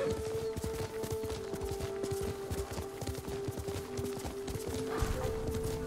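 Steady, rapid clip-clop of horse hooves at a trot in the video game Ghost of Tsushima, over a constant tonal hum, continuing evenly throughout.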